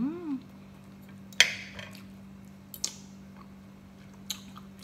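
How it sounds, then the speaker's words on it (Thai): Someone eats a santol dish with shrimp by hand, making a few sparse, close, crunchy bites and wet chewing sounds in an otherwise quiet room with a low hum. "ชิมน้ำก่อนชิมกุ้งก่อน"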